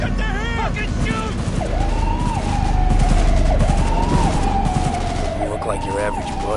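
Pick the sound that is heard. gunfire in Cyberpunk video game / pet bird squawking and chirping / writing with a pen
gunfire in Cyberpunk video game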